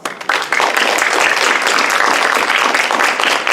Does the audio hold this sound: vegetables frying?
no